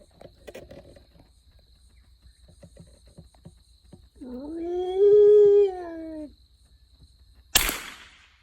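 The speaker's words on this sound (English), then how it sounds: "Dog stuck in here." A wild dog howls in open country during a hunt down south, a single rising, wavering howl at middle distance following quiet rustling and faint clicks, ending before a sharp loud crack.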